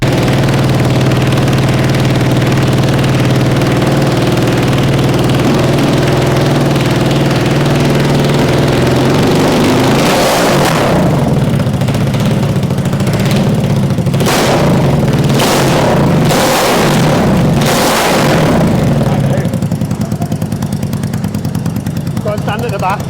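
A 1000cc V-twin motorcycle engine, rated around 120 hp and swapped into a ride-on lawnmower, runs loud and close with a steady throbbing idle, then several sharp revs flare up before settling back down.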